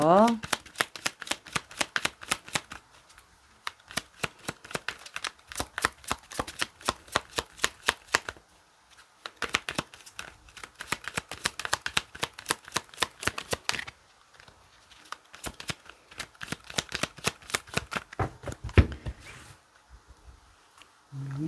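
A tarot deck is shuffled rapidly and repeatedly in long riffling runs of dense, crisp card flutters, close and clear. The runs are separated by brief pauses.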